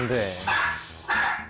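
A schnauzer barking at home, with a voice speaking over it, followed by loud, sharp barks and yelps.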